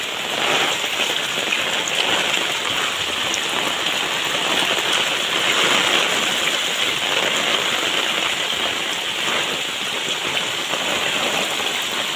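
Heavy rain falls continuously in Ranpar, Gujarat, a loud, even roar of drops pounding surfaces with no pauses and no voices.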